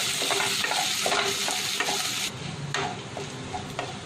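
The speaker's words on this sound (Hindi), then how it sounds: "अब ऑनियन को हम इसमें भून के लेंगे जब तक ये गोल्डन ब्राउन हो जाने तक" Roughly chopped onions frying in a pan toward golden brown, a loud continuous sizzle broken by the scrape of stirring, dropping slightly in level partway through.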